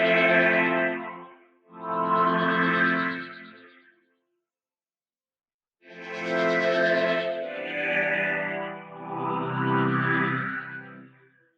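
Sustained synth pad chords made in Maschine come in separate swells, their tone sweeping brighter and darker as an internal filter moves, with a brief silent gap between phrases.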